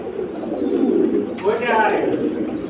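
Silver high-flying pigeons for sale cooing close by in a few soft low-pitched phrases, with someone talking over them.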